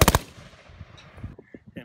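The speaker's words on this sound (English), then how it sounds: "We had a color guard here and a 21-gun salute." A rifle volley fired as a 21-gun salute at a golf course rededication memorial ceremony: a rapid cluster of loud, sharp shots at the start, followed by quieter echoes and faint movement sounds.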